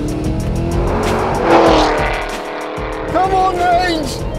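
Cadillac Escalade V and Mercedes G-Wagon accelerating side by side in a roll race, a loud steady engine roar rising and surging, with brief tire noise and excited voices shouting over it.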